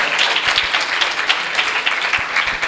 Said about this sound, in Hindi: जोरदार तालियां हमारे प्रभु।